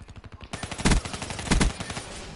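Rapid automatic gunfire from the video game Black Ops 3 rattles in a steady fast stream, with two heavier louder bursts standing out over the repeating shots.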